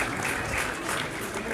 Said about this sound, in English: so round of applause for all them